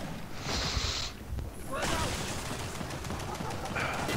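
Turret gunfire from a Gears of War 4 match roars in a dense, sustained stream of shots, loud and continuous with a brief dip in the middle, with game effects layered over it.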